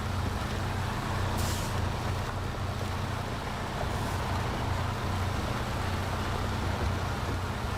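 A truck in the SnowRunner video game drives in high gear with a steady, heavy engine drone and rumble, constant and close, plus a brief hiss partway through.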